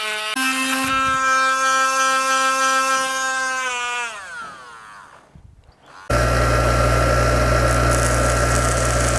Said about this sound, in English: Fortunately, I have a small Dremel.